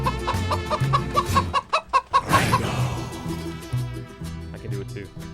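A man imitates a chicken with his voice, giving a loud, close run of rapid rhythmic clucks that ends in a drawn-out squawk over background music.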